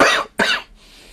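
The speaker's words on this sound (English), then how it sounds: "I've just got this terrible cough that's just enough to make me feel not super." Two sharp, loud coughs from a nearby person with a bad cough, close together, followed by quiet.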